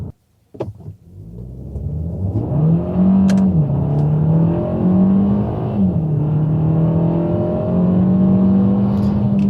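A Kia Cee'd GT hatchback pulls hard with traction control switched off, its engine note climbing loud and steady through several gear changes, each shift marked by a brief dip before the revs rise again.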